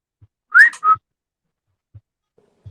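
Whistle played from a phone app: two bright, rising whistle tones in quick succession near the start, loud and close, followed by near silence with a few faint low thumps.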